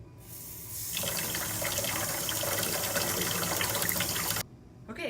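Cyanotype prints are rinsed under running tap water in a sink, a steady gentle gush lasting several seconds before cutting off, close and alone without talk.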